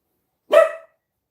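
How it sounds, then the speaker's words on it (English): A single sharp dog bark sounds once, short and fairly close, with silence before and after. "That's my dog."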